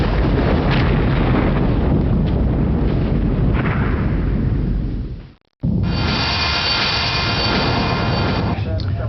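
A torpedo strikes home in the Silent Steel submarine game: a heavy, sustained rumbling blast fills the scene, cuts briefly to silence, then returns as a loud roiling aftermath with a hissy, bubbling wash.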